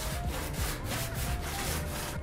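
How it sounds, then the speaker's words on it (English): Steady back-and-forth rasping of a sanding block on wood, repeated rhythmic strokes, close and continuous. "I'm just going back and forth with my sanding block"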